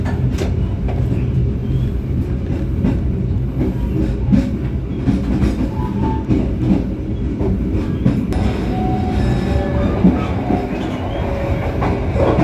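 The Bima passenger train in Indonesia rolls steadily along the rails with rhythmic clicking of wheels over joints and a constant loud rumble, occasional squeaks and rattles.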